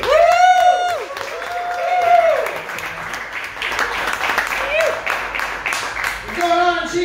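Applause from a small, intimate comedy-club audience in Chico, California, greeting comedian Gabriel Alexander, steady clapping and crowd noise beneath a host's loud amplified voice.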